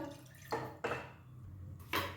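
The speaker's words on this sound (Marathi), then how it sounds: "आता मी एक पॅन तापत ठेवला आहे त्यात दोन वाट्या पाणी घालायचं" Water is poured into a heated pan while cooking, producing a few quiet, separate splashy sputters against a faint background.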